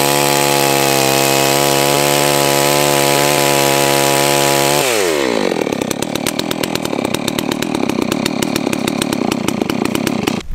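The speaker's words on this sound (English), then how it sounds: "it sounds like a big saw. It runs like a big saw, too." A new Holzfforma G660 chainsaw runs while felling a leaning tree, first at a steady high-pitched idle-to-rev whine, then, after about five seconds, a louder, rougher rapid chatter as it cuts, close and continuous, with no voices.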